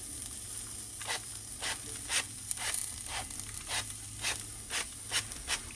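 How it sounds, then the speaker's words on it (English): Cooking spray hisses in a rapid series of short, soft spritzes onto a skillet while making Filipino pancit, each burst a brief airy puff repeated about a dozen times at a close, quiet level. "what I'm going to do is spritz my skillet again"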